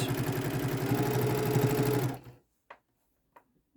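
A sewing machine stitches quilt seams with a steady, rapid, close-up whir for about two seconds, then stops, leaving silence broken by a couple of small clicks.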